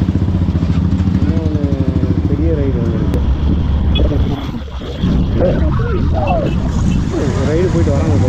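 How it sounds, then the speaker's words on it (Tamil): Royal Enfield Scram 411 motorcycles set off on a test ride during a city ride event. Engines rev up and down amid loud wind buffeting, with people talking over the noise. "ஸ்க்ராம்லர் டெஸ்ட் ரைடு ஆகிடுது."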